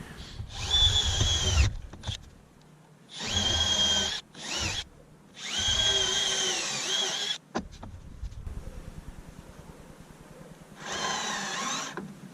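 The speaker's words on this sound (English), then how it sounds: "I know the length of the drill bit and what I'm going through" A power drill bores through a van's metal roof to fit a Flatline Van Company roof rack, with several loud, steady whining bursts separated by short pauses and a couple of quick triggers.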